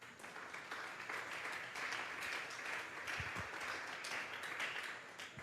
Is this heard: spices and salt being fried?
no